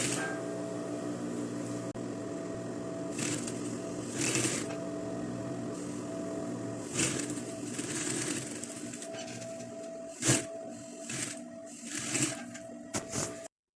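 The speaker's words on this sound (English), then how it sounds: "make sure you sew around the stay" A sewing machine stitches around the stay of a shirt collar being repaired, giving a steady close mechanical whir and hum broken by short louder bursts of running, with no talk.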